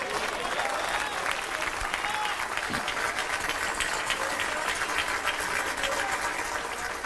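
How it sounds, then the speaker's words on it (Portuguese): Church congregation applauding steadily for about seven seconds, a dense, even wash of clapping from a large crowd, loud and close, with no other sounds rising above it. "Aplauda mesmo a ele."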